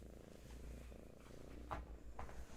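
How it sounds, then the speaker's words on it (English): A cat purring softly and continuously up close, a low steady rumble with faint breathy swells and no talking. "Some purrs from little Hattie."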